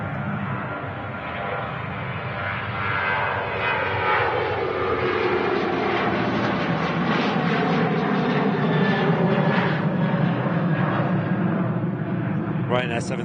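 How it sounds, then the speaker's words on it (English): A Ryanair Boeing 737-800 jet departing Manchester Airport produces a loud, continuous engine roar that holds steady and swells slightly as it climbs away. "Ryanair 737-800 departing."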